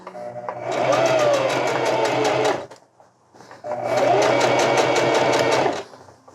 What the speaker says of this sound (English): I'm gonna just sew again, exactly the same way, all the way down